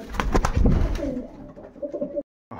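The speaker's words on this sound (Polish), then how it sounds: "jak te gołąbki na oblocie się sprawują" Racing pigeons in a loft coo and flutter close by, with soft overlapping calls that fade toward the end, and no one speaks.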